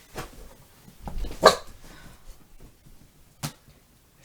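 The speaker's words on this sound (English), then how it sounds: "wouldn't stop barking" Dog barking indoors, a few loud separate barks with a short whimpering sound between them, sporadic and close, with quiet gaps in between.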